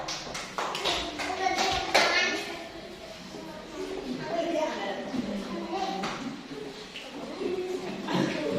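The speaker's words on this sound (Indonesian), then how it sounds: "tepuk tangan untuk kelompok 1" Students in a classroom clap for the first group after its presentation, with scattered taps and claps that come and go over chatter and shuffling.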